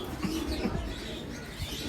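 Flying pigeons coo softly in a backyard loft, low murmuring calls in short bursts, faint against a quiet background.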